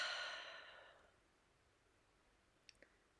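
A slow ocean-breath exhale during a caregivers' breathing meditation, a soft airy rush for about a second that fades into near silence, followed by a few faint clicks.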